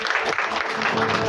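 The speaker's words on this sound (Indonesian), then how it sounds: "Tepuk tangannya jangan alang-alang." A church congregation claps together at a memorial service, a dense, close burst of applause filling the whole short moment.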